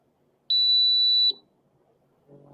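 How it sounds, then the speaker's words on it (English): A drone radio transmitter for an EMAX Tinyhawk 2 gives a single steady, high-pitched electronic beep lasting under a second, loud and close, then falls quiet before a faint murmur. "Is that the beep I hear? Because it's. Yeah, that's my radio."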